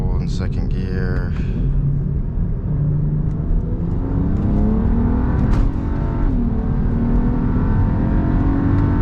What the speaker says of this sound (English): It's a 30 mile per hour pull in second gear.